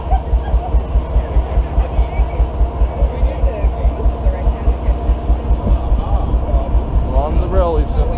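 A train engine rolls past on the rails at a railroad days event, with loud, close, rhythmic clickety-clack of wheels over track joints and a low rumble, while people talk nearby.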